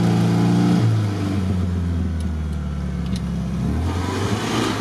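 A GAZ-67 that is barely recognisable and struggling to move forward has its engine revved hard, a loud, close, droning rumble that dips and then climbs again while the vehicle strains.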